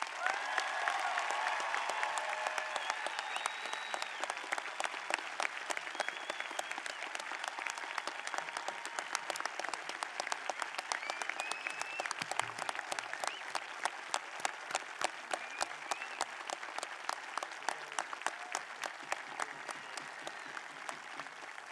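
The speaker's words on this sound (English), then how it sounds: "Please give them a round of applause." Sustained audience applause at a high school commencement honoring graduates entering military service, dense clapping from a large crowd continuing steadily for about twenty seconds, loud and close, with no talk over it.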